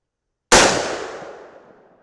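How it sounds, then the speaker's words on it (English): A single .308 Winchester rifle shot fired at a 50-yard target with 175-grain Sierra MatchKing loads over IMR 4064 powder: one sharp, loud crack with a decaying outdoor echo after a short silence. "let's shoot one more at 50 yards"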